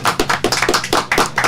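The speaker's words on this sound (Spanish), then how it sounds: "Un aplauso." A small group applauding at the close of a program, rapid sharp hand claps in a quick uneven rhythm, close and loud with no talking over them.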